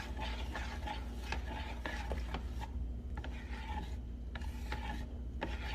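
A spoon stirring a soupy breakfast mixture in a pot, producing steady rasping scrapes against the bottom in an irregular rhythm, close and fairly quiet, with no voices.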